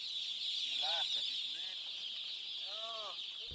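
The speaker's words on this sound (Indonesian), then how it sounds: "Tata Yudo, peternak ayam broiler asal Yogyakarta ini melepas ribuan anak ayam ternaknya di lapangan Karang" Thousands of broiler chicks from a Yogyakarta poultry farm released onto an open field in Kota Gede chirp and cluck in a few short, soft calls over a constant high hiss of ambient noise.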